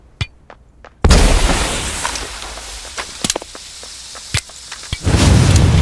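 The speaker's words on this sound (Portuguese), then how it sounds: "Eita, joguei granada errada." A grenade explodes in the online shooter Badlanders with a sudden loud boom, and a rumbling, crackling aftermath trails on. Sharp clicks and scattered cracks come before and after.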